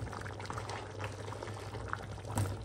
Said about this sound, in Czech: přidám tam brambory